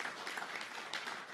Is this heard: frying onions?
no